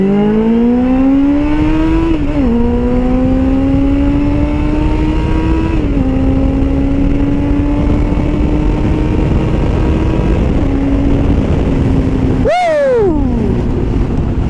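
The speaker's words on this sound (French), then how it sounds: "de découvrir la montée du 4 cylindres aussi" A Suzuki GSX-F 600 four-cylinder motorcycle engine revs loudly and close, rising in pitch through several gear pulls with brief dips between them, then a sharp high rev spike and drop near the end, with no talk.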